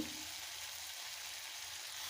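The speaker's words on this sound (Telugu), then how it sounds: "ఇందులోకి పుదీనా కొత్తిమీర కూడా వేసి వేపుకోవాలి" Mint and coriander leaves frying in a pan for tomato-mint chutney give a steady, close sizzle that runs unbroken with no talking.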